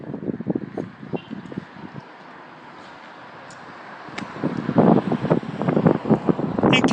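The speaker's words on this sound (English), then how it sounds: "It's going to be a very windy day in Sydney, Nova Scotia" High wind gusting in Sydney, Nova Scotia: loud buffeting microphone rumble in bursts, dropping briefly before building into strong, sustained roaring gusts.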